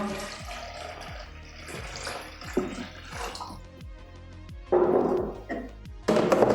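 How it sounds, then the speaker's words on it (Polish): Water gurgles and splashes as it is poured into the tank of a Stadler Form BEN humidifier, with a few plastic clicks and knocks mixed into the pouring. "Otwieramy klapę, wlewamy wodę do zbiornika."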